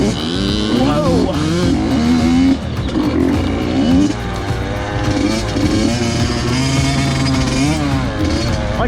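Motocross motorcycle revving hard on an overgrown, unmaintained dirt track, the engine rising and falling continuously in loud, close throttle swells with no talk.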